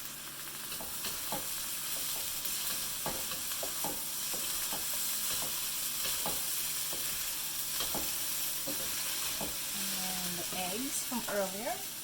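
Shrimp being stir-fried into Japanese fried rice in a pan, a steady close sizzle with repeated scraping and stirring knocks throughout, and a brief voice near the end.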